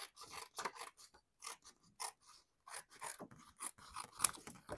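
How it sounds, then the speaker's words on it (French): Scissors snipping and trimming paper roses at a papercraft table, a close series of short, crisp cuts and rustles with brief pauses between, no talking. "Donc, je vais prendre mes ciseaux."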